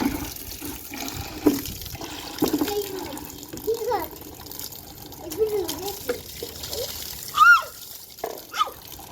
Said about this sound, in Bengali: নে বালতিটা ধো।